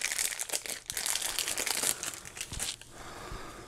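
A well-wrapped ezcoo HDMI splitter being unpacked, with steady crinkling and crumpling of plastic and paper packaging close by, a few sharper rustles and tears, easing to softer handling near the end; no speech.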